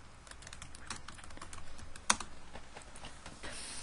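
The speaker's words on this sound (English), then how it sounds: "So I'm going to first type in Vision Forum." Soft clicking of a computer keyboard as someone types, a steady patter of quiet keystrokes at close range with one sharper tap partway through.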